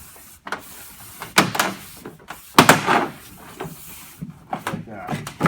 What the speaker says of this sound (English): That way you can flatten it down and get it to lock in.